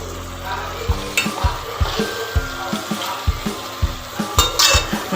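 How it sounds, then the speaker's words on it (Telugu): Fish curry simmering in a pot while a spoon stirs it slowly, giving a steady bubbling sizzle with soft scraping knocks against the pot at an irregular rhythm, close and clear with no talk. "చూస్తున్నారా ఎలా బాయిల్ అవుతుందో?"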